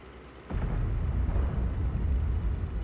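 A T-55A tank fires its main gun in a tank video game. One abrupt boom is followed by a sustained low, rumbling roar that stays loud for the rest of the moment.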